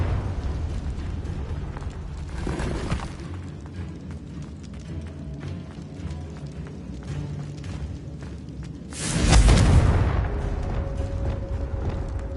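A Confringo explosion spell in Hogwarts Legacy bursts with a loud, booming blast near the end, after a smaller whooshing burst earlier, over a steady background rumble.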